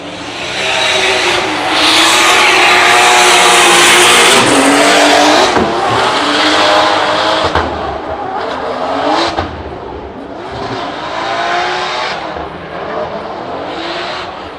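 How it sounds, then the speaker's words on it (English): A Mercedes-Benz AMG drift car at a Drift Masters practice session in Riga roars loudly at high revs with squealing tires, the engine note rising and falling as it slides past before fading. "Raman Kondrachenko in that beautiful Mercedes-Benz AMG TT."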